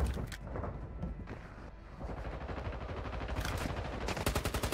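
A dense, steady rattle of rapid gunshots from Warzone Mobile, a mobile battle royale shooter, fills the scene with loud, close bursts and no talking.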